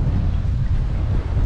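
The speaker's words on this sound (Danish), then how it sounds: "Håber I kan høre noget, for det blæser altså lidt." Gusty wind buffets the microphone on a tropical island holiday in the Maldives, a loud, close, continuous low rumble with no voices.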